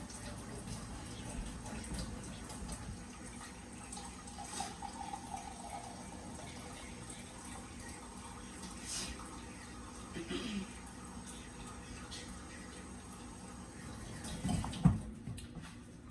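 Water is poured in several pours into a measuring cup while cooking rice, a soft, fairly quiet splashing that repeats in short bursts against background noise, with a few small knocks near the end.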